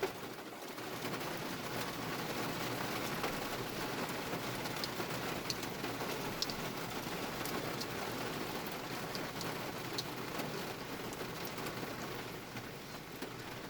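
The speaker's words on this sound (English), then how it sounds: "I don't think I've ever seen rain like this." Heavy rain pours down in a thunderstorm in Littleton, Colorado, a dense steady roar that stays loud and unbroken throughout, with no voices.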